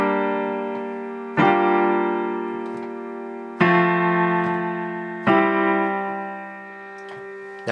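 Four sustained piano chords, each struck cleanly and left ringing to decay before the next, played alone at an even, slow pace.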